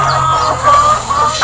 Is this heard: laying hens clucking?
yes